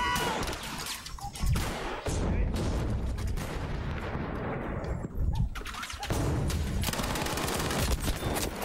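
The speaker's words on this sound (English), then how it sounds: "Artillery shell." Artillery shells exploding in the Battlefield 5 video game, a dense run of loud booms and blasts alongside gunfire, nearly continuous across the clip with brief dips between impacts.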